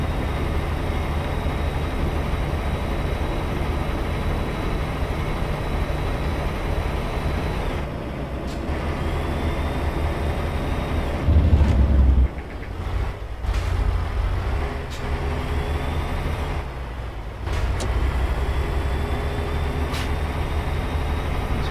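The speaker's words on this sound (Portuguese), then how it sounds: "ver como que sai o som do tráfego na rodovia" Highway traffic in American Truck Simulator, a steady engine drone with vehicles rushing past and the hiss of air brakes, loud and continuous with brief dips and swells as traffic passes.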